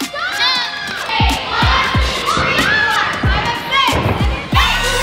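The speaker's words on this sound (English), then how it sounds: "Cheer for them." A lively crowd cheers loudly for Mavericks performers, high-pitched shouts and whoops piling up over rhythmic thumps, the cheering surging in waves from close by.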